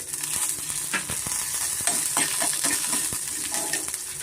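Black peppercorns fry in a little oil alongside fenugreek and cumin seeds for a fish sambar masala, giving a close, continuous sizzle broken by small ticks and scraping stirs against the pan, with no voices.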